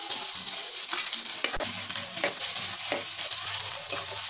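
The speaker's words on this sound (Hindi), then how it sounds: "और इसे भी मैं भून लूंगी, प्याज को भी अच्छे से भून लूंगी।" Onions sizzle and fry steadily in a pan after garlic, for a makki roti and sarson ka saag dish, with occasional stirring scrapes over a continuous close crackle and no talking.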